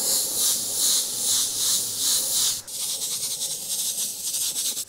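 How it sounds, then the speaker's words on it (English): An airbrush sprays paint for a mountain range painting, giving a loud, steady airy hiss that pulses gently, then shifts abruptly to a slightly different, rougher hiss partway through. "I'm still angling that airbrush"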